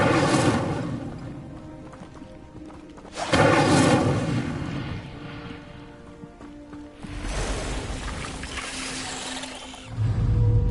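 Incendio fire spell cast in the video game Hogwarts Legacy, heard as bursts of whooshing, roaring flame with booming impacts, rising in loud surges around the start, middle and end amid game effects.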